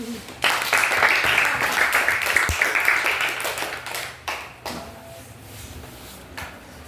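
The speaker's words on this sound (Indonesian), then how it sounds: "anak kita kasih tepuk tangan untuk kelompok 4" A classroom of children claps for a student group, a short burst of loose, uneven clapping that dwindles into scattered claps and knocks, with some voices in the room.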